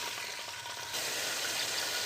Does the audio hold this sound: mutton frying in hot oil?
yes